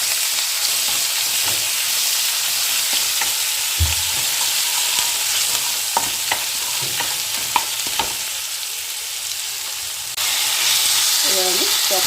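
Chopped onions fry over medium heat in a pan for fish chops, making a continuous loud sizzle with scattered crackles and utensil taps, and the hiss rises slightly near the end.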